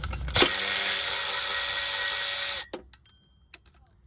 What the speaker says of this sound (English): so you have to pull on the ratchet